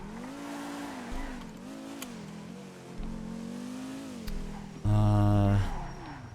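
Cars in the video game GTA V rev their engines loudly, rising and falling pitch sweeps repeating every second or so, ending with a sharp, louder burst near the end.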